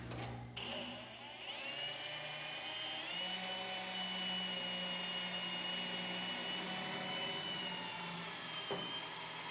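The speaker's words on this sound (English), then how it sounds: "We're going to drill this out and tap it." A drill running steadily to bore out a stuck bolt in the door of a 1972 Plymouth Cuda during rust repair, a continuous close whining motor hum that holds for several seconds before spinning down.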